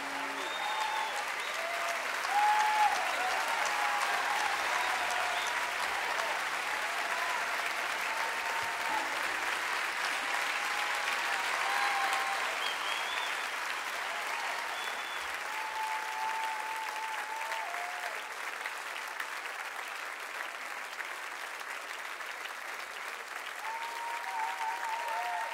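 Concert audience at a 1993 folk performance applauding steadily, a dense wash of clapping with scattered cheers and whistles that holds loud for the full stretch before easing slightly near the end.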